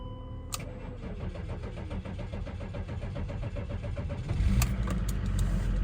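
A BMW X5 diesel engine starts after preheating: a short starter crank catches into a steady mid-pitched diesel idle, then a firmer, louder rise near the end, recorded close with no talking.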